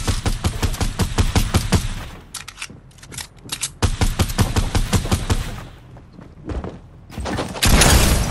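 Rapid gunfire in a Fortnite match, a long series of sharp close shots in fast bursts with brief pauses between volleys, ending in a louder sustained blast.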